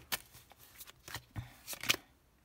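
Tarot cards shuffled by hand during a reading, a handful of crisp riffling flutters and soft card slaps close by, separated by brief pauses and without talk.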